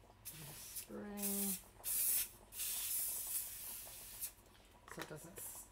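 Non-stick cooking spray hisses into a kitchen bowl in a few long bursts, close and loud, with brief speech between them.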